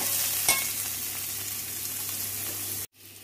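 Dried chillies, curry leaves and onion frying in a pan, a steady close sizzle with one sharp stirring clink early on, ending abruptly in near silence.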